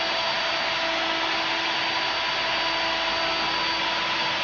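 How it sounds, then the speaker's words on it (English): Router table with a chamfer bit cutting chamfers on wood pieces, a steady high whining hum running continuously at moderate level, no talking. "Over at the router table I've installed a chamfer cutting bit. Just run all the pieces through."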